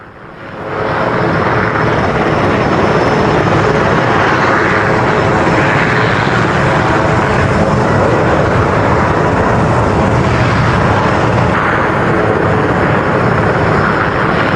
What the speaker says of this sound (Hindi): ट्रंप का विमान मियामी में लैंड हो रहा था।